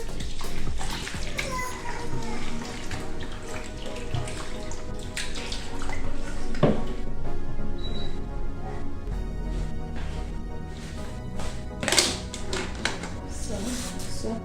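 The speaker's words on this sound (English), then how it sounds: "So we start with washing the tomatoes." Tap water runs steadily over tomatoes being washed, with splashing and trickling close by and occasional clinks, accompanied by faint kitchen background.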